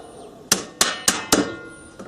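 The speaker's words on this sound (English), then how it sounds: "Tapping hammer, tapping." A hammer taps a clamped piece in a workshop: four sharp, evenly spaced knocks close by, each ringing briefly, with no voices.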